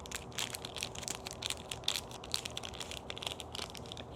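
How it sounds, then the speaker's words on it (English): A cigar's wrapper is peeled open by hand, giving a steady, close crinkling and crackling of thin material that runs continuously with small sharp peaks, heard alone without talk. "just savoring the appearance and the sound of the wrapper as I unwrap"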